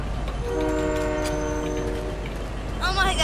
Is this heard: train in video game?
yes